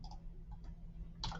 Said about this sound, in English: Left click,